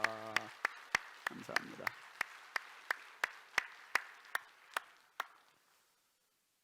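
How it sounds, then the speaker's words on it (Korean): A church congregation claps in unison, about fifteen sharp, evenly spaced claps that ring out and fade. A voice speaks briefly at the start. "박수 한번 하겠습니다"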